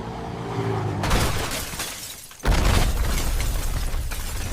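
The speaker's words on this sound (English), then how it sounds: "Hollywood-level VFX with VO3, a car crash and explosion" AI-generated car crash with a shattering impact and a heavy explosion, a loud, dense roar of debris and fire that swells and rumbles on without any voices.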